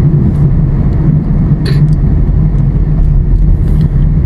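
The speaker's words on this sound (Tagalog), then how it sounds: "Oh, medyo traffic pa guys." Traffic on Macapagal Highway, a steady close rumble of passing cars and engines with a few brief higher clatters, continuous and fairly loud with no talking.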